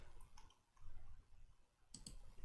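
A few sharp computer mouse clicks during Photoshop editing, with a pair of quick clicks near the start and another close pair near the end, heard close up over a low room rumble.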